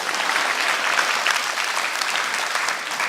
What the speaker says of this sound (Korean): 우리 반주하시는 박성경 집사에게 박수 한번.